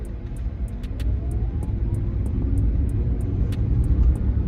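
A Wuling Air EV electric car pulls away from a standstill, giving a steady, rising road and motor rumble with faint ticking, and no voices.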